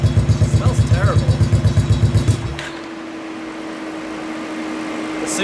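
An old Kawasaki KFX 700 quad idles roughly with a loud, uneven chugging pulse, then cuts out and dies after a couple of seconds, leaving only a faint hum close by.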